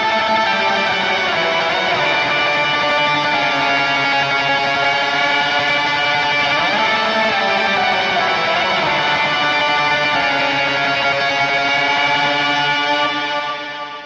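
Electric guitar lead for the King of Kings verse played through a Line 6 Helix, a sustained, distorted tone with heavy echo and reverb, notes gliding and blending into one another before fading at the end.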